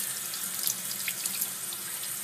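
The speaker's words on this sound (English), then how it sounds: "So now I wash them just under water." Tap water runs steadily into a sink while nopales cactus pads are rinsed under it, a continuous soft hiss and splash with small irregular spatters, fairly quiet and with no voices.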